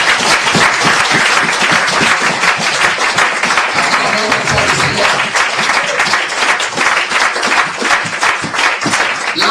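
A church congregation applauds loudly and steadily, with dense, continuous clapping from many hands filling the room throughout.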